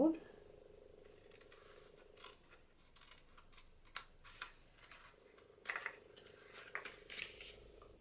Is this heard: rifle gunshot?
no